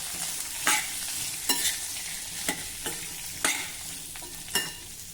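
A potato sautés in a pan over medium heat, a constant sizzle punctuated by five or six crisp, evenly spaced scrapes of a spatula tossing it; nobody speaks.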